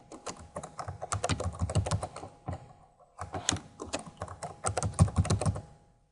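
Rapid, close keystrokes on a computer keyboard in two bursts of typing separated by a short pause, crisp clicks alone without speech.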